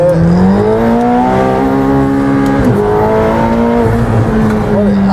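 A McLaren 720S turbo sports car accelerating hard, a loud, steady engine roar rising in pitch, briefly dipping as it shifts, then climbing again, close and dominant, with faint talk underneath.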